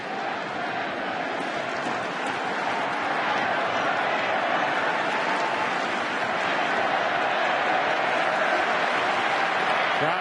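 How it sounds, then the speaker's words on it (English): Baseball stadium crowd at a 2010 World Series Game 4, a steady broad wash of cheering and clapping that holds at an even, sustained level throughout with no clear breaks. "Crowd trying to get excited again"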